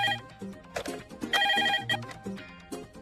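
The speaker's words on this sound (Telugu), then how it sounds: "ఫోన్ చూడు." A telephone rings with a bright, repeated electronic bell pattern in steady bursts, loud and close. It sounds alone with no talking over it.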